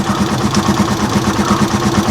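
A tuk-tuk engine idles after sitting unused for over a week, a loud, steady, rapid low putter with an even rhythmic pulse, close up and continuous with no talking.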